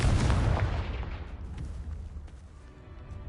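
A Confringo spell explosion in the video game Hogwarts Legacy, a single loud, deep boom that hits at once and then rumbles away into a fading low tail.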